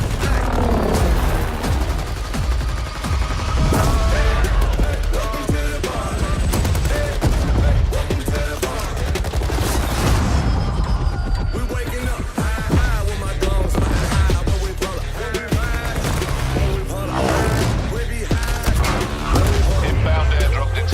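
Gunfire in the video game Call of Duty: Blackout: sustained loud automatic bursts and rapid shots with booms and crashes layered over game sounds, continuous throughout, with talk mixed in.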